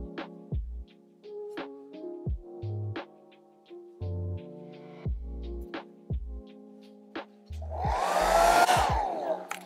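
A hair dryer switches on near the end, blowing loud and close to dry watercolor paint in a sketchbook, after a stretch of quiet handling noises and faint taps.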